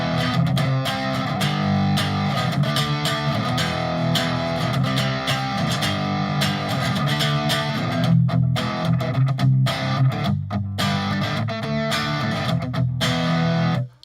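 Electric guitar played through a Friedman amp model on a Fractal FM9, distorted chords and riffs ringing loud and sustained for the whole stretch, with short choppy gaps toward the end before cutting off.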